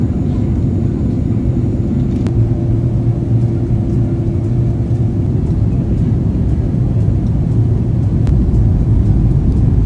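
Inside a Qantas Airbus A330-200 airliner on approach and landing into Sydney, a loud, steady low cabin rumble of engines and airflow runs throughout, with a couple of brief clicks.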